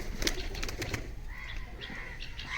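Fancy pigeons kept as a breeding pair in a pet house coo softly nearby, with a few flapping wing bursts and light rustles.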